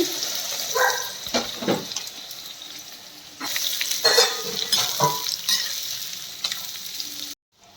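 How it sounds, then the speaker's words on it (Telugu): Radish pieces sizzle steadily in a pan, frying until reddish for a radish chutney, with intermittent scraping stirs and clatter throughout, close and moderately loud, ending abruptly in silence; no talking. "ముల్లంగి ముక్కలు వేసుకున్నామండి రెడ్ కలర్ వచ్చే వరకు వేసుకోవాలి"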